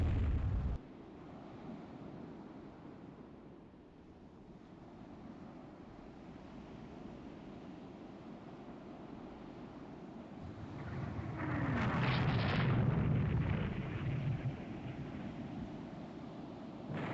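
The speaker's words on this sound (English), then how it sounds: "Oh, this York got hit by a torpedo." A torpedo strikes the warship York in the naval strategy game Rule the Waves 3, a deep rumbling boom swelling over steady sea and wave ambience, heard alone without talk.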